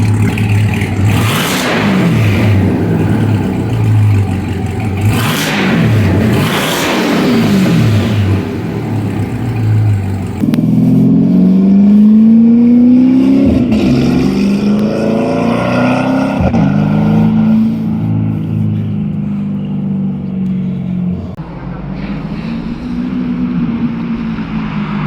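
A 1000hp twin-turbo C8 Corvette fitted with an MBRP exhaust revs loudly and close, with repeated throttle blips rising and falling before longer sweeping revs and a settling idle.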